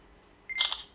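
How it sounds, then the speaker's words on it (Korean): A camera shutter fires once, sharp and near, as a photo is taken in a quiet family setting after a brief electronic beep. "찍어주세요"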